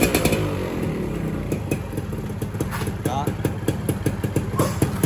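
A Suzuki Xipo 99 motorcycle engine runs after being kick-started, a steady idle with rapid, even firing pulses. A voice talks over the engine throughout.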